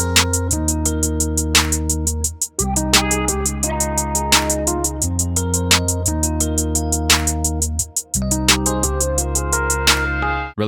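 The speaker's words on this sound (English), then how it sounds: "got the filter clap right here," A smooth hip-hop beat made with a drum kit: a filter clap stacked on every second snare over a busy hi-hat pattern and sustained bass and chord tones. It repeats in a steady loop, loud and up front, with no voices.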